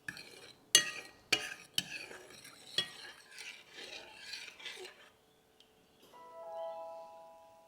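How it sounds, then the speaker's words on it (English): A spoon scrapes and rubs around a pan of sugar on low heat, a few sharp strokes followed by softer circular stirring, close and clear; an electronic oven beep follows at the end. "just stir it until the sugar dissolves and it starts to bubble"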